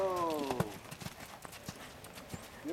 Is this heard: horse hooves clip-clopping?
yes